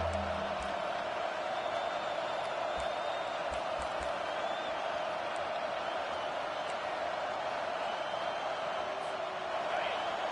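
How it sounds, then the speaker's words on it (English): A stadium crowd in the football video game NCAA 25 roars in a steady, far-off wash of cheering on third down, with a commentator's voice talking over it. "Decibels rising as the crowd gets behind this defense on third down."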